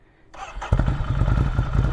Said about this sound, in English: Let's start this puppy up and take a listen.